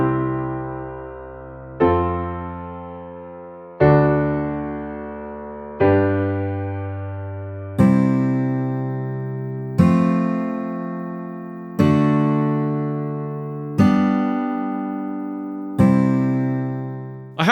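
A chord progression of sustained, voice-led piano-like chords, one struck every two seconds and left to decay, moves step by step toward the tonic, clear and alone with no talking.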